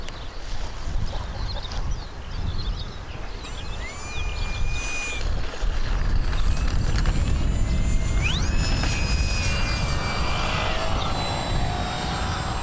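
An RC model airplane flies overhead outdoors, its electric motor whine rising and falling in pitch as it passes, steady and fairly loud over wind and background noise throughout.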